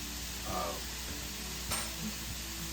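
Crushed garlic and onions sizzle in a hot pan over a gas flame, giving a steady close frying hiss with a few brief stirring scrapes and one sharp clink, heard alone without speech.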